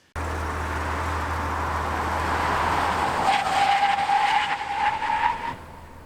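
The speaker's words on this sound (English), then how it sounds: "from 60 miles an hour, the pickup truck stopped in 153 feet" A pickup truck braking hard from 60 mph to a full stop, a loud steady rush of road and engine noise with a rising tire squeal in the last few seconds before it cuts off.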